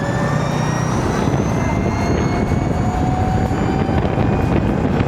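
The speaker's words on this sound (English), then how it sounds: "the scooter easily pulls, and it reaches its top speed 90 kilometers per hour in no time" An Ather 450X electric scooter accelerates hard toward its 90 km/h top speed, its motor whine climbing steadily in pitch under loud, constant wind rush.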